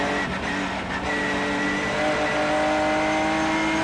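GT4 race cars roar along the back straight at Zolder circuit, giving a loud continuous engine drone that stays close and steady throughout, with no talking.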